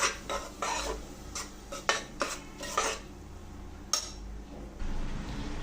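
Masala for a Malnad-style chicken curry fries and is stirred in a pan, giving a series of faint metallic scrapes and clinks from the utensil against the pot, irregular and close over a soft background.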